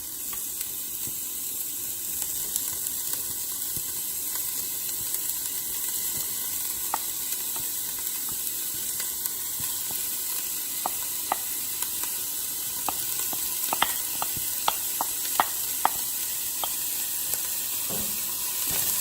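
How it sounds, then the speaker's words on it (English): Beef frying with golden onions in a pan, stirred together: a steady, even sizzle throughout with scattered light clicks and scrapes of a utensil, growing busier in the latter half. "we're just gonna add our beef into the onions, and then we're gonna mix them all together"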